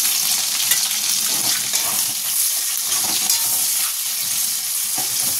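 Onions fry in a pan with a loud, constant, close-up sizzle that holds an even, dense hiss the whole time.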